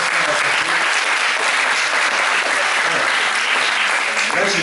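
A crowd at the Dijon Saiten 2015 cosplay contest applauds the cosplayers, sustained dense clapping at a steady loud level throughout, with some crowd murmur beneath.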